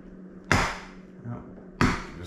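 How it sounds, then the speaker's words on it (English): Two sharp, loud hammer blows land along the slot of a mortise lock in a door being converted to a keyed knob, each ringing briefly before a quiet scrape between them. "I'm just gonna hammer down the length of the slot."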